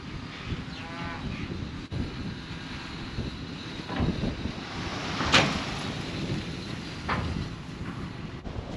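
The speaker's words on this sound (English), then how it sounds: "It is very windy up here." Strong wind roars and buffets steadily throughout, with gusts swelling louder midway and a few sharp knocks over the rushing noise.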